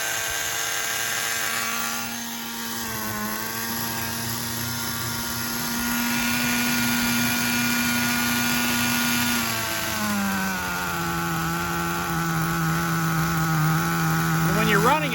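A nitro engine in an HPI RS4 RTR3 RC car revs at high RPM, a loud close buzzing whine that holds steady, dips briefly and rises again, with light talk underneath.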